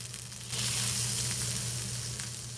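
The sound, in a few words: hilsa fish intestine frying with onion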